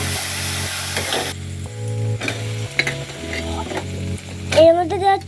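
Potatoes and spices being stirred and fried in a pan for a paneer curry: a steady sizzle with scraping utensil strokes and clinks against the pan, close and fairly loud, with brief faint voice near the end.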